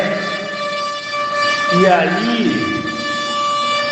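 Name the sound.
horn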